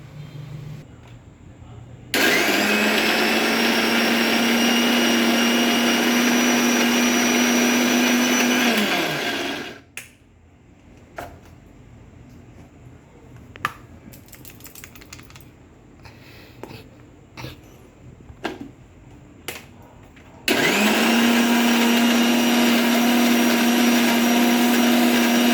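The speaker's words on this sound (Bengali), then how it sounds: "এটি আমি এখন গ্রাইন্ড করে নেব।" An electric grinder grinds a paste of masoor (red lentil) dal with a pinch of salt. It whirs loudly and steadily for about eight seconds, stops for a stretch of faint knocks and clatter, then starts again just as loudly.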